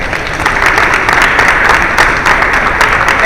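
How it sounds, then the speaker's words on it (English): An audience at a CBCF opening news conference breaks into loud, steady applause, many hands clapping in a dense, continuous wash that holds evenly for a few seconds. "give her an applause."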